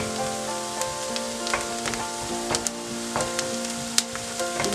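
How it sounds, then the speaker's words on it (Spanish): Garlic sizzles steadily in a frying pan with onions already browned, a continuous crackling fry with scattered sharp pops and a few stirring scrapes, close and fairly loud with no talk. "Ahora le vamos a poner el ajo."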